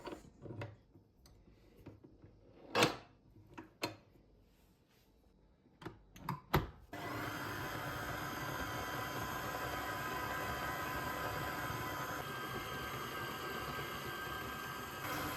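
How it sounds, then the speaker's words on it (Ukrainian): A few knocks and clatters, then a food processor motor starts mixing dumpling dough and runs steadily with a loud whirring churn, sustained to the end. "Готую я його в комбайні."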